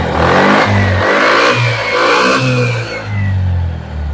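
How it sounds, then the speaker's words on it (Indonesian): A Suzuki Spin 125 scooter with a rough, misfiring engine, revved repeatedly with the throttle, loud and close, rising and falling in several surges with some clatter. "Saya tarik gas."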